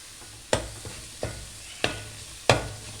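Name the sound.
ginger garlic paste frying in pan for chicken curry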